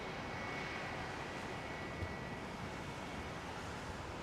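Aircraft taxiing out at London Heathrow Airport on runway 27R, a steady broad distant engine rumble and rush that holds evenly, with no talk.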